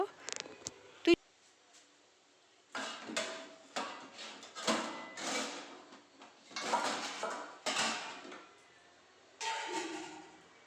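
Pots and utensils clatter in a home kitchen while rice is put on to cook, with a sharp metallic clack early on, then bursts of knocking, sliding and clinking separated by short pauses.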